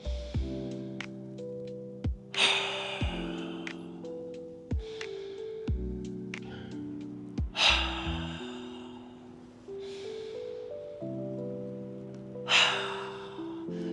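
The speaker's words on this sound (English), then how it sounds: "When you go to your left, exhale it out like that. Make it strong. So inhale." Strong paced breathing exercise, a series of forceful audible inhales and exhales repeating every couple of seconds over soft sustained background music.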